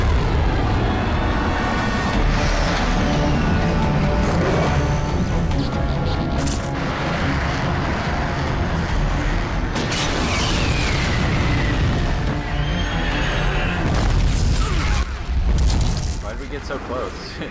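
A missile fired and exploding in Gears of War Judgment, heavy booming blasts and rumbling crashes filling the scene continuously, with people talking over the din.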